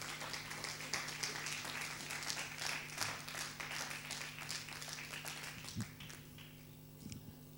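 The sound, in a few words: congregation applause in church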